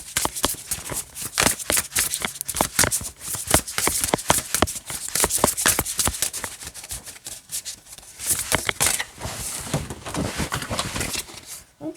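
Playing cards being shuffled in rapid, crisp riffling bursts, close up and continuous, with brief pauses between runs.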